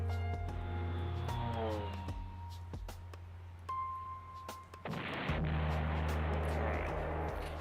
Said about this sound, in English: Now I can take this guy and I can bomb him